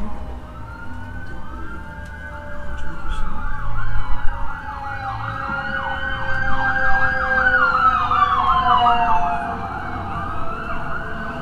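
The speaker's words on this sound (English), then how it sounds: "Sirens for Eloy. Look at that!" Siren sound effect played during a baseball broadcast, a loud wailing emergency-vehicle siren with rising and falling sweeps that repeat steadily for several seconds, heard alone without commentary.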